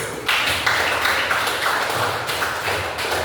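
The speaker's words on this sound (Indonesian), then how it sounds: "Beri aplaus dulu." An audience in a classroom gives a round of applause, a dense steady clapping that stays loud and even for a few seconds with no talk over it.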